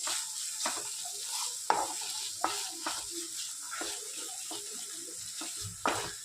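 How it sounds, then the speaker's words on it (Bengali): Grated paneer being stirred and mixed into a sautéed filling in a pan for mini Mughlai paratha, giving repeated scraping and clattering strokes over a soft, steady sizzle, with no talking. "এখন ভালো মতো মিশিয়ে নেব।"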